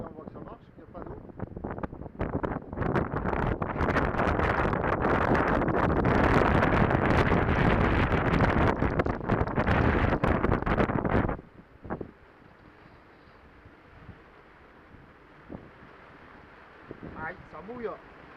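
Strong wind buffets the microphone at a boat anchorage for about eleven seconds, a loud roaring gusty rush. It then drops to a quieter background with light water and boat sounds.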